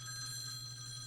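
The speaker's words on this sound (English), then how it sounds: "All 8 phones buzzed alive in a relentless" Phones ringing in the video game Tokyo Babel, a loud continuous electronic ringing tone holding steady with no pauses.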